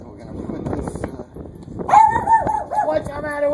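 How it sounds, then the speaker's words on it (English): A dog barks at a person outdoors in a garden during a garden hose repair; a few yapping barks and whimpering tones ring out in the second half, close and fairly loud, after a stretch of man's speech. "Why are you barking at me?"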